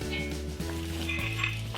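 Onions frying in a pan for a vegetable chilli, a steady soft sizzle running throughout with faint clinks of utensils against the pan and a low hum underneath.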